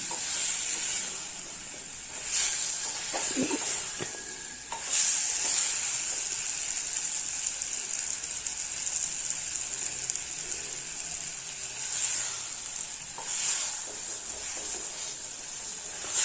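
Mixed vegetables fry with spices and salt in a pan, giving a steady close sizzle and hiss that runs the whole time, with a few louder scraping stirs and bursts along the way.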